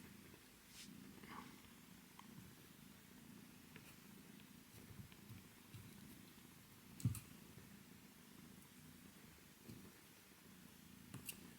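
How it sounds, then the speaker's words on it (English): A rescue kitten purrs steadily and fairly quietly up close, a low continuous rumble with a faint click or tap around the middle and no talking. "She's purring so loudly."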